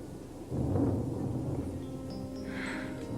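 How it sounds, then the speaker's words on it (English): Thunder rolls in as a low, rumbling swell that peaks early and fades slowly into a dull, steady background wash. "It's thunder."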